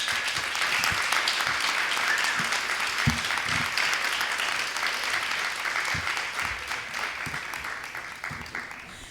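An audience at a literary panel discussion applauds, a broad sustained patter of many hands that holds steady for several seconds and then eases slightly toward the end.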